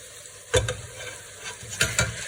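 Minced meat frying with onions in a pan, a steady close sizzle broken by two bursts of stirring scrapes.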